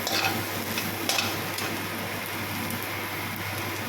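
Onion ends sauté with garlic in a pan, producing a quiet, rain-like crackling sizzle with a couple of brief stirring clicks early on and no one speaking.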